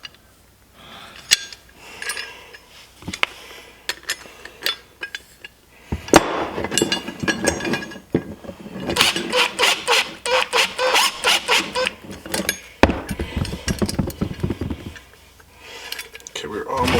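An Allen key tightening a dead pedal in a Jeep Gladiator Rubicon cab: repeated metallic clicks, scrapes and rattles of the key against the bracket, close and irregular, with some rapid bursts of ratcheting.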